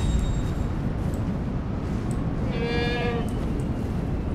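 Goat herd in the video game Far Cry 4 bleating once, a short wavering call midway over a constant low rumble of game ambience, with no talk.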